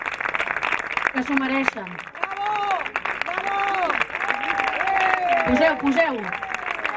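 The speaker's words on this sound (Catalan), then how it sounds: "Un fort més d'aplaudiments per ells" An audience at the SOPART 2019 event applauds while someone speaks loudly over it. The clapping runs as a continuous background wash beneath his voice the whole time.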